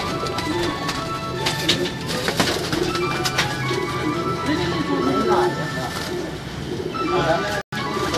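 Ferozpuri pigeons kept by a pigeon keeper in Lahore coo and flutter in a continuous, busy backdrop, with scattered clatter and someone talking over them throughout.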